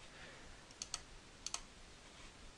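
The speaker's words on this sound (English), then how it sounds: "hit M on the keyboard" Two quick pairs of computer keyboard key presses click sharply and quietly, separated by a short pause, in an otherwise still room.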